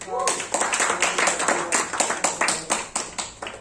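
A class clapping hands in a microteaching session, a short run of distinct claps in an uneven rhythm, close and fairly loud, with a voice speaking over part of it.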